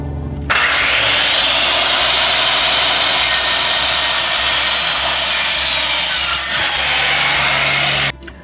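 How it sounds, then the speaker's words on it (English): A loud circular saw whines through lumber in one long continuous cut, close by, starting abruptly and stopping near the end. "Now we're going to saw the lumber with a circular saw."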